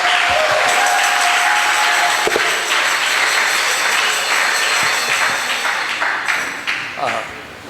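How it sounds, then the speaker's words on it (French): A church congregation applauds its praise group. Dense, loud clapping fills the room for several seconds and thins out toward the end. "On acclame le groupe de louanges et puis on l'encourage"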